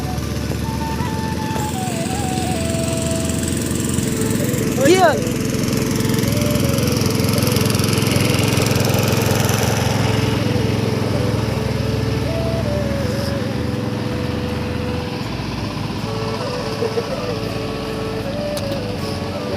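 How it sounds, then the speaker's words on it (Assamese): A tractor engine runs steadily while ploughing a field to prepare for rice seedling planting in rural Assam. Its loud, continuous drone is close and unbroken for the whole stretch, with no pauses or gear changes standing out. "ট্ৰেক্টৰ চলি আছে।"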